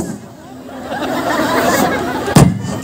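A single sharp firework bang cracks out near the end at a crowded outdoor celebrity night show in Tagoloan, cutting through a steady murmur of crowd chatter.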